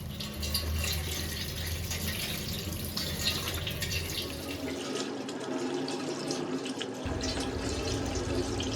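Vegetables for sambar being washed under a running kitchen tap, water streaming steadily and splashing into a sink for the whole stretch, close and fairly loud.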